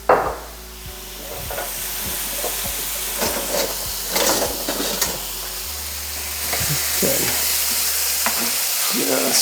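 Chicken being stirred in Korean barbecue sauce, a close, continuous wet sizzle with repeated scraping and sloshing strokes throughout.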